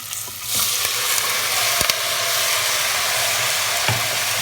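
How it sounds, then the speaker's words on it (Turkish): Spinach sautéing in a pan, a steady close sizzle that starts after a brief quiet moment, with a few sharp clicks of utensils against the pan. "Ispanağımızı da güzel bir şekilde kavuralım."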